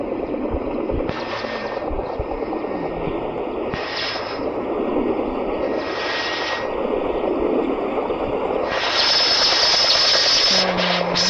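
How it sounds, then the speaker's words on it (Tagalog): A helicopter runs at a steady, loud idle, its engine roar and turbine whine continuous, with a rhythmic rotor pulse and rising in pitch and intensity toward the end. "nakapandar po sila ng helicopter"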